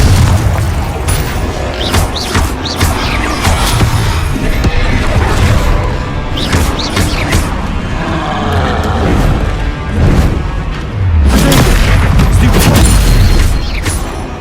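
Spell blasts and combat impacts from the video game Hogwarts Legacy, with dense, loud booms and crashes running continuously and several heavier bursts standing out.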